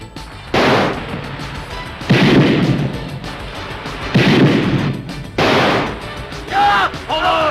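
Gunfire from a film soundtrack comes as several loud, heavy bursts at roughly regular intervals, each decaying into a booming tail, with shouting voices mixed in around the shots.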